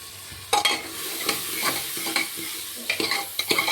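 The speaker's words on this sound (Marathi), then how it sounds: "आणि हे तांदूळ वगैरे टाकून द्यायचे। चांगलं मिक्स करून घ्यायचं।" A spoon repeatedly scrapes and stirs rice and moong dal for khichdi in a frying pan over a soft sizzle, with uneven, close, clattering strokes and no talking.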